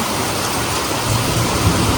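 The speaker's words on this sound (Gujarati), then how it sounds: "અને એટલો ને એટલો ગાજે પણ છે વરસાદ." Heavy monsoon rain pouring down hard, a loud dense hiss with a low rumbling undertone over a couple of seconds, no voices.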